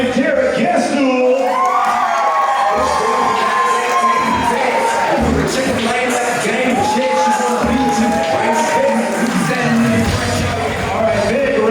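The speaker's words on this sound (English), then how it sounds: "Let's make some noise for Karen Siegel and Derek Gastool." Wedding guests cheer, whoop and shout as the wedding party is announced, a loud, continuous crowd roar with rising and falling yells, some high and childlike. No distinct spoken words come through.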